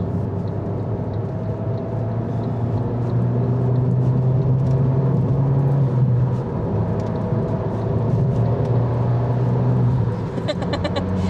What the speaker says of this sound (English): I've missed doing the old Abarth rev under a bridge